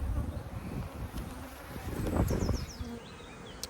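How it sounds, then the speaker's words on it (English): Dense buzzing of many honey bees swarming over the lids of nucleus hive boxes in a mating yard near a quarry, a steady close drone with occasional louder passes of individual bees. "There's so many bees in here, on the lid"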